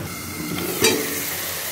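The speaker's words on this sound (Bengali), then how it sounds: "এটাকে ভালো করে কষিয়ে নেব।" Spices with Kashmiri chilli powder and green chillies sizzle in a pan, a steady close frying hiss broken by one sharper scrape of a stirring spoon, with no talking.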